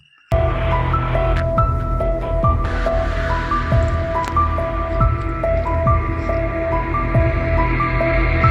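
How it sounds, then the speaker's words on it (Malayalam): Pumpkin leaves stirred in a black clay pot, wet squelching and soft dripping with occasional clacks of the spoon over a low background hum, with no talk. "അങ്ങനെ അമ്മ നമ്മുടെ കറുത്ത മൺചട്ടിയിൽ മത്തൻ്റെ ഇല ഇട്ടു. ഇനി അതൊന്ന് നന്നാക്കി ഒന്ന് ഇളക്കിയെടുക്കണം."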